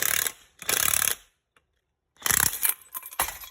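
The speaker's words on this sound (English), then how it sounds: "we are hitting it with an impact to pull off this pulley" Impact wrench pulling a pulley off an LC9 engine during a camshaft install, heard as two rattling bursts of hammering, a short pause, then two more bursts, close and fairly loud with no talk.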